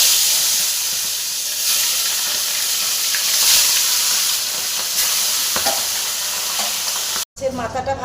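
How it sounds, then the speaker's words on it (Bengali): Pieces of hilsa fish seasoned with salt and turmeric fry in hot oil, making a loud, continuous sizzle and hiss with stirring, ending in a brief cutoff and a short burst of clatter. "মাছগুলো একটু ভেজে নিই।"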